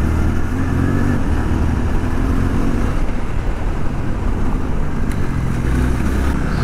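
A Suzuki V-Strom 800DE adventure motorcycle engine runs on the road during a ride, a steady, loud, dense drone with mild throttle swells throughout.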